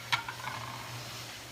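Shallots and garlic drop into hot oil in a pan, a brief crackle at the start settling into a steady soft sizzle.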